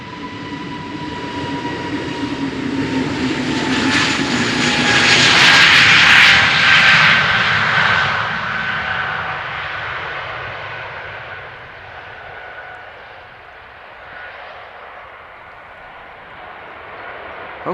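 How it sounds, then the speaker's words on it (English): An Airbus A320neo-family jet airliner's engines roar steadily on takeoff at Amsterdam Schiphol, then gradually fade as it climbs away, with a faint whine lingering in the distance. "Extremely quiet airplane."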